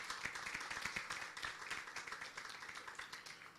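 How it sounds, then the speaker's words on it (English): Audience applause at a Lagos energy conference, a spread of individual claps audible within a thinner crowd clapping, steady and moderate for a few seconds before beginning to taper. "Please let's give me a round of applause again."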